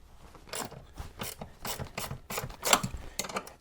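A 1/2-inch wrench works a nut off the bag mount behind the passenger peg on a Harley-Davidson Heritage Softail, making a run of close, quick ratcheting clicks in short bursts with no talking.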